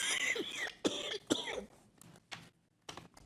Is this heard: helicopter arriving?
no